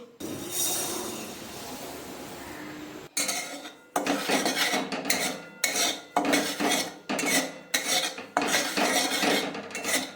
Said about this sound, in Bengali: সুজিটা এবার আমি লাল লাল করে ভেজে তুলে নিচ্ছি